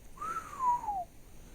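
A single clear whistled note from a person during a tabletop role-playing game session, sliding up then gently down over about a second, close and alone against faint room hiss.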